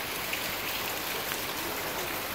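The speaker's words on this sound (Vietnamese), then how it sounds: "Mưa thế này là rất là mát rồi." Steady rain falls in Ben Tre, southern Vietnam, the first rain of the season after drought and saltwater intrusion, a dense continuous hiss of drops with no voices.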